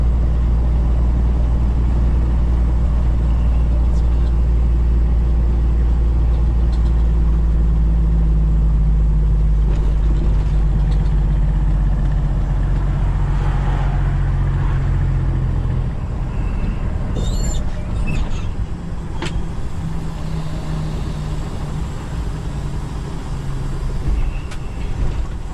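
A heavy-haul propane truck grossing roughly 130,000 pounds labors under load as the driver skips gears, a loud, steady low diesel drone that drops and shifts partway through, with a faint hiss of air over it.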